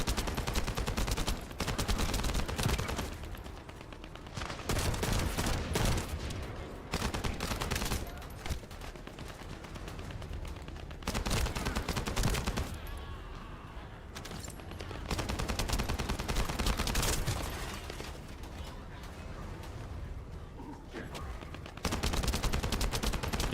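Video game gunfire rattles in repeated long bursts of rapid shots, loud and close, separated by short pauses throughout.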